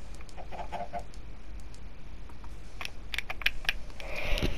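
Minecraft chickens on PS4 cluck in short soft bursts at the start, then faint taps and clicks follow, with the game's low background hum underneath.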